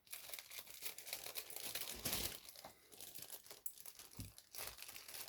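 A plastic bag holding sprue trees of K.I.T.T. Super-Pursuit Mode model kit parts is cut and torn open, giving close, continuous crinkling and crunching of thin plastic with a louder tearing burst partway through.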